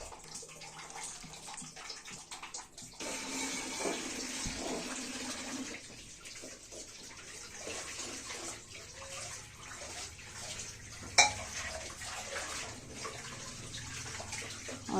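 Gravy being ladled out of a pot of beef nihari cooked in mustard oil: a steady wet sloshing and pouring, with one sharp metallic clink of the ladle near the end.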